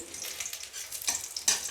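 Chopped garlic and green chillies fry in oil, giving a short burst of bright, crackling sizzle with a couple of sharper pops near the end.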